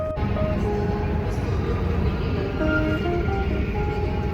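A passenger train rolls into a station with a steady low rumble and faint squealing tones, heard from close by for several seconds.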